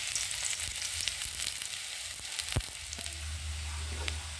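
Onions and garlic frying in a pan for a stir-fried vegetable dish, a steady, dense sizzle close up, with a few light stirring scrapes and no voices.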